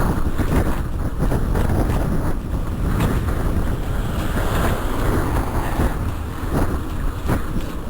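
Strong wind roars steadily across the microphone during an outdoor bike ride, a loud continuous buffeting rush with no voices.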